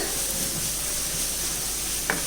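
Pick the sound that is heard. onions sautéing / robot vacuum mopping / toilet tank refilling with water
onions sautéing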